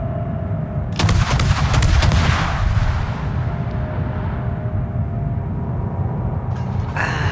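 Naval cannon fire in the World of Warships video game: a loud booming salvo of several rapid heavy shots, then a long rumbling decay, with another sharp report at the very end.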